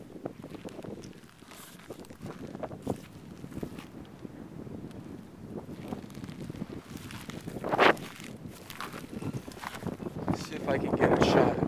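Wind gusts buffet the microphone outdoors, a rumbling, uneven roar that swells louder toward the end, with a person talking beneath it.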